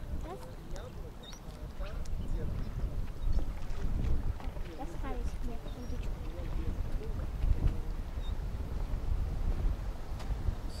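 Wind buffets the microphone in low, gusting rumbles outdoors at a fishing lake, with faint voices and scattered chirps in the background.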